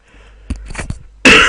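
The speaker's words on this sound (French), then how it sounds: "j'ai toussé, excusez-moi" A man gives a short throat-clearing cough, a sudden loud burst after a few quiet breathy sounds, close to the microphone.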